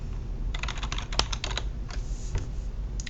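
Quick clicky keystrokes on a computer keyboard while renaming an Excel sheet, a short close burst of taps with brief pauses and no talking.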